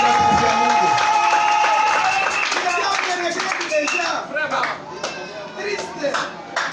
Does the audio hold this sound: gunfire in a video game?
no